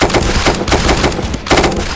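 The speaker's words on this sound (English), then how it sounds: "Shots fired!" Loud, close gunshots ring out in the video game Unturned during a drug house shootout, several sharp reports fired in quick succession with a brief pause before another shot.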